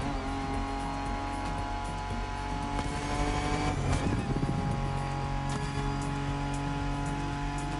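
Muscle cars race in a video game, a dense, continuous engine roar with layered droning tones and a brief surge of tire and motor noise partway through.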